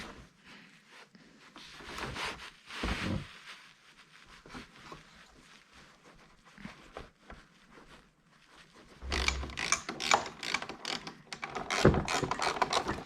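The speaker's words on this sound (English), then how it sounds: "Now I'm going to screw in the two T25 screws that hold the reservoir in place." Two T25 screws go in to hold the reservoir of a 2009 Mini Cooper engine, a run of close ratcheting clicks and scraping metal that comes in uneven bursts, louder toward the end.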